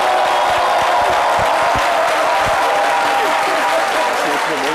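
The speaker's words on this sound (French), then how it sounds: "Merci d'applaudir Jean-Michel Honin." Studio audience applause at a French daytime variety show, a steady dense wash of clapping filling the whole stretch at full loudness, with no voices on top.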